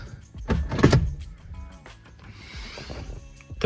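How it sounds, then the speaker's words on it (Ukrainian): Gear selector on a Citroen C-Zero electric car being shifted through reverse, neutral and drive, heard outdoors as a few close mechanical clicks and whirs, followed by a quieter steady hum. "Тепер навіть на вулиці дуже гучно чується, як перемикаються передачі."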